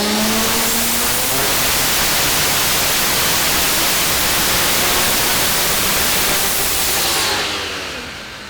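A Hoontune-built Ford Barra straight-six drag car with a large 86-85 turbo and over 1,200 wheel horsepower roars at full power, a loud, dense, sustained wall of engine and turbo noise that fades slightly at the end.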